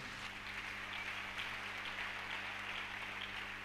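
Church congregation applauding during a sermon, a steady wash of clapping from many hands, faint and even throughout the short stretch with no clear voices.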